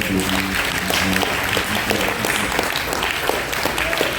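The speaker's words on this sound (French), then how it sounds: "applaudissez le Saint-Esprit, Père, Fils et Esprit" Applause fills a church service, with dense, steady clapping throughout and a low hum of voices beneath it.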